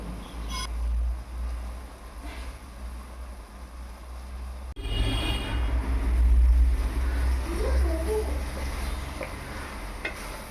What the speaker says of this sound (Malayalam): ചിക്കൻ മസാലയും ടൊമാറ്റോ സോസും ചേർത്ത് നന്നായി ഇളക്കിയെടുക്കുക